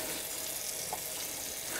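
Water rushes and hisses steadily while an airbrush is rinsed out during cleaning, a close, continuous splashing wash with no voices.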